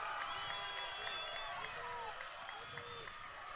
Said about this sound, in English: Crowd is very loud.